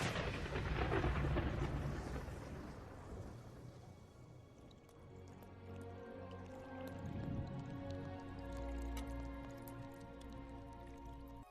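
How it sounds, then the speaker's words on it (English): Rain falls with a rumble of thunder in an animated ragdoll scene, a broad wash of downpour that fades into scattered drips and low rolling thunder, fairly quiet throughout. "which made rain to fall to the earth"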